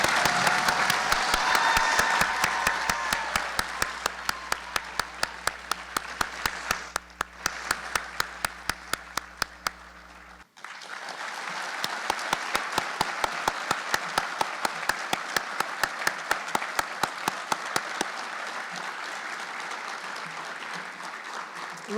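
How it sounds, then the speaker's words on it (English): Audience at an award ceremony breaks into sustained, dense applause that fills the room for about twenty seconds, dipping briefly midway and then swelling again with scattered cheering. "Please give a round of applause to firefighter paramedic Brian Aparicio."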